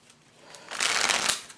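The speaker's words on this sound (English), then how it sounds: "Maybe now I can shuffle them together." A quick riffle of playing cards being shuffled, building to a crisp fluttering burst up close before settling.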